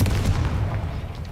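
Bombarda and Confringo spell blasts in Hogwarts Legacy, a deep booming explosion with a heavy low rumble that decays over about a second, loud and close.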